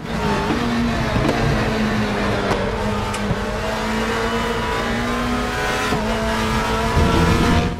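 A race car in RaceRoom at Silverstone brakes into Stowe, its engine note droning loud and steady with falling pitch and faint tyre scrub, no talking.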